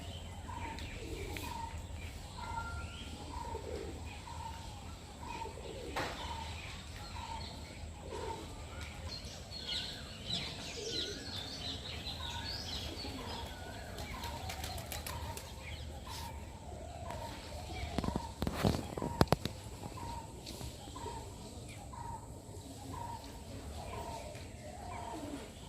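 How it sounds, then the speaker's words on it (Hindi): Pigeons cooing and feeding on grain at a stupa in Sarnath, soft repeated coos and chirps from nearby birds over a quiet outdoor background, with a brief burst of wing flapping near the end. "दाने चुग रहे हैं, सशंकित भी हैं। कबूतर निडर है।"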